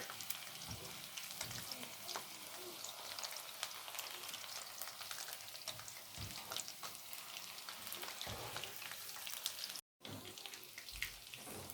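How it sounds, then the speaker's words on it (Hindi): Chicken fries in a pan during cooking at a dinner party, giving a steady crackling sizzle close by with occasional clinks and stirring knocks, and a brief dropout near the end. "और ये हम फ्राई करते हैं"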